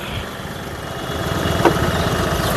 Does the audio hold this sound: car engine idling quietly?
yes